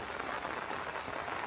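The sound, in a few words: rain falling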